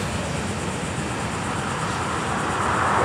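FEC 920 freight train with all hopper loads heading north in the morning: a broad, steady rumble and roar that builds gradually as it approaches, with no talk.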